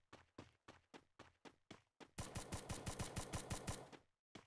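Gunfire in Free Fire: a row of evenly spaced single shots, then a faster, louder automatic burst that ends abruptly and is followed by one last shot.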